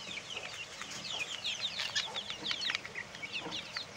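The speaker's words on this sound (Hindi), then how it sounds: "फिर ये डक भी आ रही है और दूसरी मुर्गियाँ भी कोशिश कर रही हैं" Chickens cluck and chatter busily at close range while being fed, a quick overlapping flurry of short calls running throughout with no talking.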